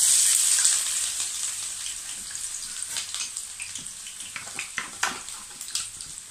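Steady sizzling and crackling of onion and vegetables frying in a hot pot, close, with an initial hiss that settles into a lively popping.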